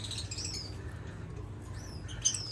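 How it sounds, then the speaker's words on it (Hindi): Lovebirds chirp at a small breeding farm, with soft high tweets scattered through the clip and a sharper squeak near the end. The calls sound fairly faint and distant over a low hum of background noise. "मेरे पास यहाँ पे लव बर्ड्स भी हैं।"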